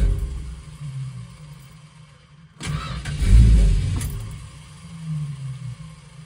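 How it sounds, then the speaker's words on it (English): A classic Chrysler engine with a faulty ballast resistor cranks and catches briefly, then dies as soon as the key is released; near, short start burst between quieter idle-like rumbling. "The engine should start, but then die as soon as the key is released."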